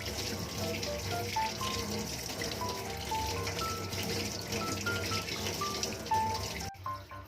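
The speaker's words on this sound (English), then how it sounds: "Clean the filter on the running water until the dirt washed out." Running tap water rinsing a washing machine's water inlet filter, a steady moderate splashing stream that flows evenly throughout and cuts off abruptly near the end.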